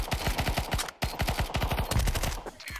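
AK rifle fire in the video game Counter-Strike 2: loud, close bursts of rapid automatic shots with a short break near the one-second mark, then a longer sustained string, no talking.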